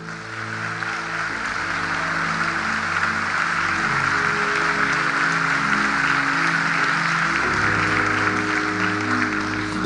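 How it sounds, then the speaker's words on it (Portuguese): A church congregation applauds, a dense, steady wash of clapping that holds evenly for about ten seconds, with a sustained musical tone beneath it. "Dê um aplauso ao Senhor"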